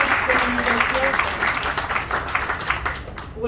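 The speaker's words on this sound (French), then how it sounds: "que je vous demande d'applaudir au passage pour cette brillante communication" An audience applauds at a conference for a brilliant presentation, a dense continuous patter of clapping that carries on steadily, with a voice speaking over it.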